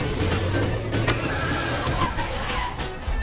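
A cartoon rescue truck drives hard and skids, its engine roar and tire squeal loud and continuous throughout, with energetic action-cartoon sounds layered over it.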